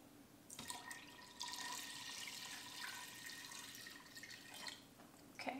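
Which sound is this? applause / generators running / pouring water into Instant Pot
pouring water into Instant Pot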